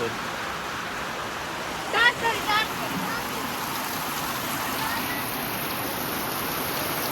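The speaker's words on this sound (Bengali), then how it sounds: "এমন জোরে বৃষ্টি শুরু হয়েছে যে এর মধ্যে পাঁচ মিনিট হয়েছে হয়তো তার মধ্যে রাস্তায় জল জমে গেছে" Heavy rain pours down without pause, a dense, loud hiss of water with leaks dripping through a house roof, and a few brief sounds stand out near the middle.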